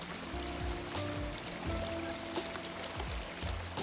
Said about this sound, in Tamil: அலை மாதிரியே வந்து தண்ணி வந்துட்டு இருக்கிறதுனால இங்கே வந்து ஃபோர்ஸாக தண்ணி வந்துகிட்டே இருக்குது